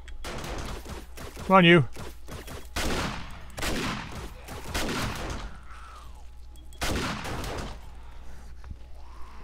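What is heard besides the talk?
shotgun gunfire at horde night in 7 Days to Die video game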